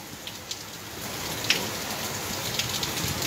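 Heavy rain pours steadily, a dense wash of hiss with a few sharper drops tapping nearby, no voices.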